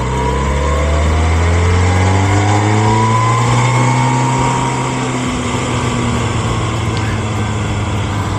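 A tractor-trailer truck swings through a wide turn on a CDL test route, its diesel engine rumbling loud and close, pitch sliding up and down as it pulls around, then settling slightly lower near the end.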